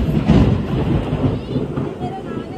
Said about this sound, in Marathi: बघा वीज पडली कुठेतरी. जाम बेकार आवाज आला आता